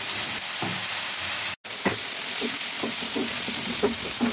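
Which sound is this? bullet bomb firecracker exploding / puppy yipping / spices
spices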